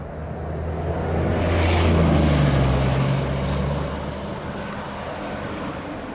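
Jet airliner, American flight 863, taking off at Sangster International Airport in Montego Bay, Jamaica: a broad engine roar that swells to a peak around two seconds, then slowly eases off, with no talk.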